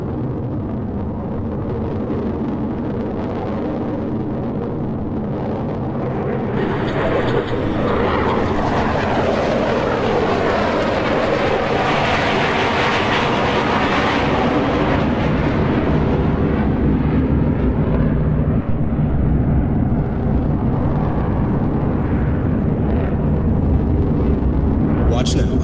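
A virtual F-35 Lightning II jet roars through an aerobatic pass in a Roblox air show, a loud continuous engine rumble that swells as it passes, with a sweeping whoosh in the middle, under an announcer's talk.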